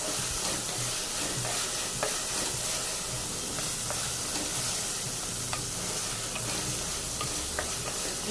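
A ginger, garlic and green chili paste sautés for a chicken curry, giving a close, steady sizzle with repeated stirring scrapes and light clicks of the spoon against the pan.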